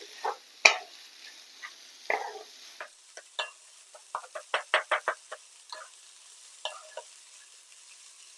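Pieces of rohu fish fry in a pan in a home kitchen, with bursts of spitting sizzle and crackle coming in uneven pops and short clusters over a quiet background.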